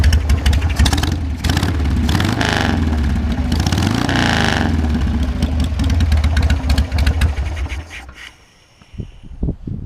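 A Harley-Davidson Sportster motorcycle engine, almost 20 years old and not fully warmed up, idles loudly and close with a steady lumpy rumble and clatter, then cuts off, leaving quieter ticking.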